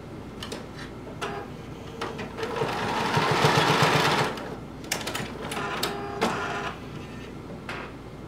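A sewing machine stitches across a garment sleeve to tack it down on a DIY top, its whirring run swelling into a steady burst with brief stops and clicks around it.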